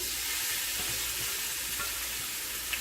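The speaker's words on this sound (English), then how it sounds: "We're going to plop these in here" Shirataki noodles hitting a hot pan with garlic and onion powder give off a steady, loud, broadband sizzle that holds evenly throughout, with no talking.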